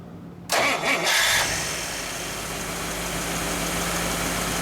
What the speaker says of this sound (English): let's start her up. Let's hear what the 57 Batmobile sounds like.